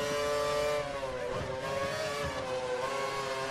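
F1 race cars in a racing video game, Red Bull and Lotus among them, whining engines overlapping as one car overtakes another, a close high-pitched drone shifting pitch as it passes, with no talking.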